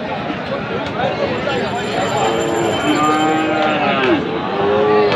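Sahiwal bull calves low at a busy rural cattle market in Dinajpur, their drawn-out calls rising over constant crowd babble and nearby talk, with a few moos standing out toward the end.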